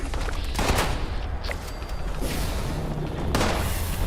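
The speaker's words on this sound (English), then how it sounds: "It's just a machine gun." Video game gunfight with sustained machine gun fire, dense rapid bursts and booms layered over each other, loud and continuous, with a couple of heavier shot clusters standing out.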